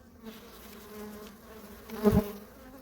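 Honeybees hum in a steady, close buzz at an open hive in early spring, swelling briefly louder as one passes near, with no talking.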